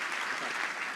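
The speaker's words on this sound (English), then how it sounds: "Please give him a round of applause." An audience claps together in a brief, steady burst of applause that fills the room evenly with no voices over it.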